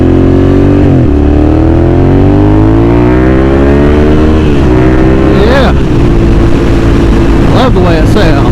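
A Suzuki SV motorcycle engine roars loudly while riding, with continuous revving that climbs through gears, short dips at each shift and repeated accelerating pulls, heard close up with wind buffeting.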